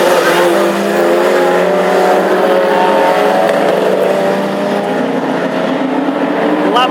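Classic hot rod race cars roar past at the Irish Grand Prix in Tipperary, a loud, sustained engine drone with layered overlapping motors, steady and close throughout.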